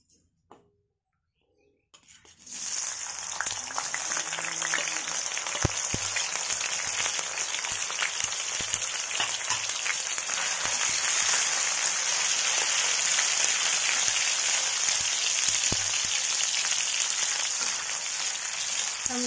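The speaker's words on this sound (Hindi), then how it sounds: "अब हम इसे पनीर को फ्राई कर लेंगे।" Paneer fries in hot oil in a kadhai, a steady, bright crackling sizzle that starts suddenly after a short silence and holds evenly throughout, with no talking.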